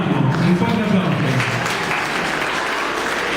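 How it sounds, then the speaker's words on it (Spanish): Steady applause from a live concert audience at a peña, a dense wash of clapping that stays loud throughout, with a voice heard over it at the start. "Un fuerte aplauso."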